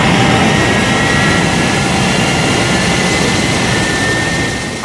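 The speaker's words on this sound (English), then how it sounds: "Ready for liftoff. Clear to go." Thunderbird 1, a rocket aircraft from the TV series, lifting off with a loud, continuous jet-engine roar and a thin high whine running through it, fading slightly at the end.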